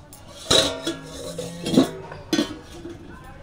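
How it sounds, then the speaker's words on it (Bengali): A metal lid lifted off a cooking pot of semolina breakfast, giving a few separate clinks and clanks at close range with quiet gaps between them and no talk. "এবার ঢাকনাটা খুলে দেখবো, 15 মিনিট মতো হয়ে গেছে।"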